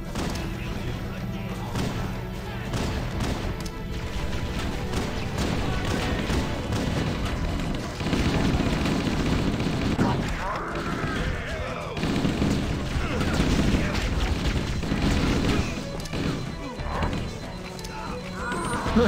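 In Halo CE, near and loud, bursts of rapid gunfire mix with heavy blasts from a grenade explosion over a busy, continuous backdrop of battle noise.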